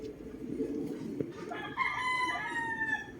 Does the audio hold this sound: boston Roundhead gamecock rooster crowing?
yes